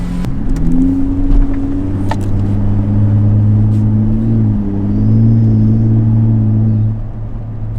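A deep, rumbling exhaust note from a V6 truck with an AWE aftermarket exhaust holds steady as it cruises, rising and easing slightly, loud and close throughout.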